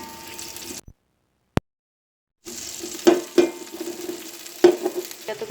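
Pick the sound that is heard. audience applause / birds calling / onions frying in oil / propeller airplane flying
onions frying in oil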